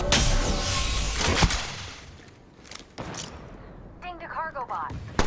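Video game gunfire cracks loudly in a dense burst at the start and then fades, followed by quieter game sounds and short radio-style voice callouts.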